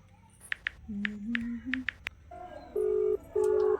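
A phone keypad beeps several times in quick short tones while dialing a gas repairman, then two longer steady tones ring out; quiet room background.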